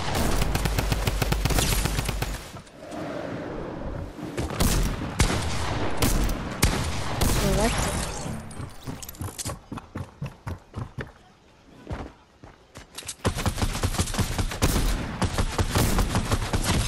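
Dense video game gunfire crackles in loud rapid bursts and fusillades, pausing in the middle before resuming heavily, with occasional voices over it.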